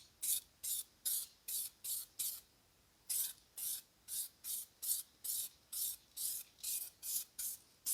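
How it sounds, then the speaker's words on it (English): Single stage true blue metallic paint hisses from a spray gun in about fifteen short, even bursts, close and fairly loud, with one longer pause partway through and no speech. "And so let's paint it."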